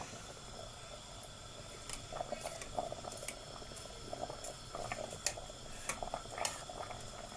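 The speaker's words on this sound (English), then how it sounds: "Hot water, boiling water," Water boiling in a pot for pasta, a steady low bubbling wash with scattered small pops and ticks, moderately quiet and continuous without talk.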